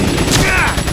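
Gunfire in the video game Resident Evil 4, a loud, dense burst of game shots with a brief rising ringing tone in the middle, filling the whole short moment.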